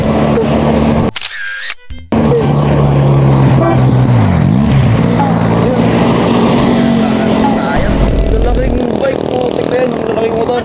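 A big motorbike rumbles past on a street, its engine rising and falling as it goes by, with a voice speaking over the noise and a brief dropout early on.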